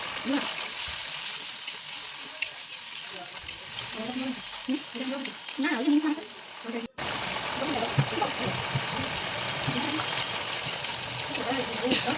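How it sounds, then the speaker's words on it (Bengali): A masala spice mix fries in a pan for a banana stem dish, crackling in a continuous sizzle alongside scattered stirring scrapes, with faint talk in the background during the first half. "ভালো মতো করে ফ্রাই করে নিতে হবে।"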